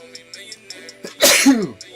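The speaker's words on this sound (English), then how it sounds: "Sneezing." A single loud, sharp sneeze bursts out close by, preceded by a brief inhale, with faint background hum and tones.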